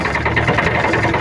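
A tractor engine runs steadily up close, with a rapid mechanical chatter and a whirring rattle from the fan belt riding on the drone.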